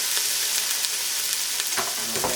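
Minced fresh ginger and fresh turmeric root sizzle steadily in hot oil in a pan for a Vietnamese curry, a constant close frying hiss with a few brief clinks of stirring near the end.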